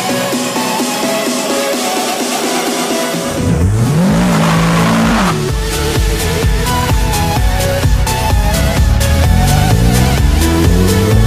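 Nissan GT-R driving hard on the Jarama circuit, its engine revving up and down through gear changes with a rising, falling pitch, loud and close, the sound growing stronger after a brief lull.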